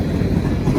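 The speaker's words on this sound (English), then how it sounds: "The front of the train just went past the defect detector." A long freight train with six locomotives, including Union Pacific units and a cabless slug, rumbles past at close range, a loud steady low roar of rolling wagons and wheels.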